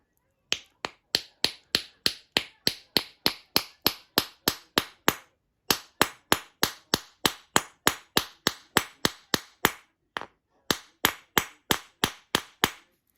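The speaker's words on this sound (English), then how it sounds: "I'm just driving those splines home into the brass." A long run of sharp, evenly spaced tapping strikes, dozens in a steady rhythm with two brief pauses, as a piece of PVC drives steel splines into brass for a crossbow build.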